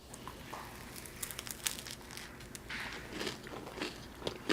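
Crisp bites and soft crunching as a macaron is bitten into up close, with crackly crumbly textures over a few seconds and faint background rustling.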